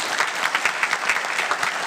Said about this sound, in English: give our Citizens Academy graduates another round of applause